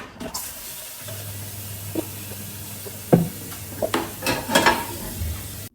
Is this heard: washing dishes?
yes